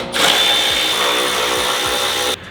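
A power tool whirs steadily for about two seconds while working on a V6 MX-5 during battery tray removal, a loud continuous whine that starts and stops abruptly.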